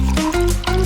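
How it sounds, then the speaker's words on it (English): Water poured into an ordinary cup, likely a small handmade wooden one, giving a brief close liquid filling sound with rising tones and a short pause partway through. "Pour the water first."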